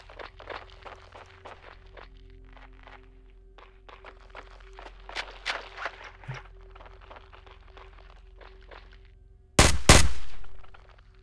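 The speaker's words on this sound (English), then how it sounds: "Why are you just be shooting, bro?" Gunfire in the Roblox game Hellmet: a run of rapid light shots and footstep-like clicks builds through the clip, ending in one loud close blast with a decaying tail.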